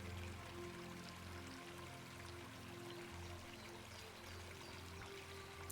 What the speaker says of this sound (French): Vous pourriez entendre le bruit d'un ruisseau qui coule doucement pas loin de vous.